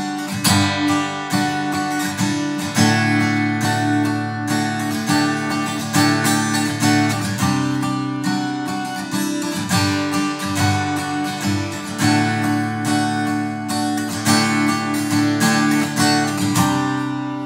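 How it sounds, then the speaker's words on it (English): An acoustic guitar for worship strums and picks a repeating melodic figure over changing chords, loud and close, steady rhythmic strokes throughout with no talking. "and you repeat that same melodic idea over the different chords."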